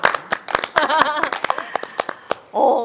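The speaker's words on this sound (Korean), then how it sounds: "박수 쳐. 박수 쳐." Sharp, separate hand claps in a quick uneven rhythm during a Korean kids' web show intro, close and loud, with a voice speaking over them and ending in a short voiced sound.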